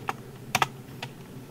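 A few scattered keystrokes tap on a computer keyboard while coding in Android Studio, light and close with brief gaps between presses, over a faint room hum.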